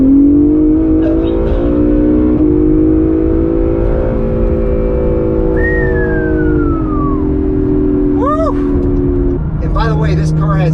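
An Acura NSX sports car engine hums steadily and builds as it accelerates onto a highway, with faint rising tones and brief chirps near the end; no one speaks.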